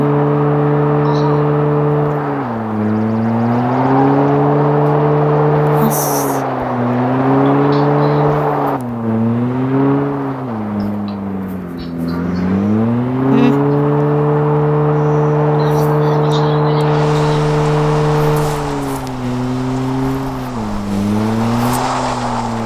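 A car stuck on a road on a long trip to Sivas revs its engine loudly and steadily for over twenty seconds, the pitch dipping and climbing repeatedly as the throttle is worked, with faint voices now and then.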